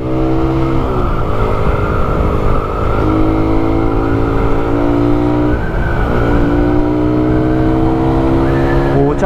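A Suzuki Raider 150 motorcycle accelerates hard through its gears, the engine note climbing steadily, dropping briefly at each shift, then rising again, loud and close throughout.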